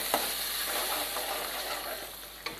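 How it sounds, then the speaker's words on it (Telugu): Tomato puree sizzles in a hot pan holding oil with turmeric and asafoetida, a steady broadband frying hiss that stays fairly even throughout, with a couple of faint clinks of a spoon. "టమాటో ప్యూరీ వేసేసుకుందాం"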